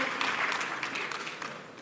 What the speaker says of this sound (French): Applaudissez, Mesdames et Messieurs